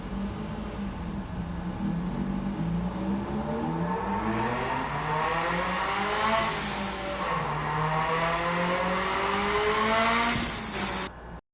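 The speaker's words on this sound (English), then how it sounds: "here you can hear a car engine, a race car engine" A race car engine is recorded. Loud, rising and falling revs climb through the gears with strong harmonic whine and brief tire squeal, then cut off abruptly at the end.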